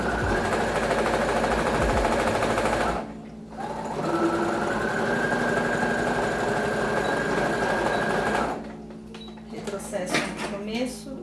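A domestic sewing machine stitching a seam on a children's sewing project, running in a loud, steady whir for about three seconds, pausing briefly, then running again for several seconds before stopping, followed by a few handling clatters.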